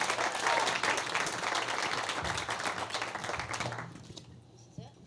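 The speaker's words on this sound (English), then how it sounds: "Let's give Deb a round of applause." Round of applause from an audience at a Leadership Mountain View luncheon, dense steady clapping from many hands that tapers and fades toward the end.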